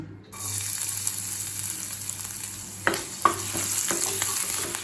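Steady sizzling of garlic and ginger frying in oil, with a few sharp clinks of a utensil stirring the pan partway through.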